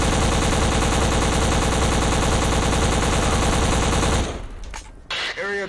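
Video game gunfire rattles in a dense, loud, sustained automatic burst that stops abruptly, followed by scattered quieter sounds and brief fading effects.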